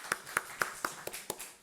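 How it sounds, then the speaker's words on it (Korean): A small church congregation claps in thanks during a Sunday service: about seven sharp, evenly spaced claps that sound sparse and somewhat distant, as if from only a few people or heard through a room microphone. "그런 감사에 한번 우리 자 박수하십시다"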